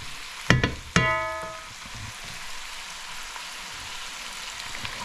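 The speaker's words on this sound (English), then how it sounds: "searing with the spices" Spices searing in a pan for curry chicken: two sharp metallic clinks near the start, then a faint, steady sizzling hiss continuing on its own.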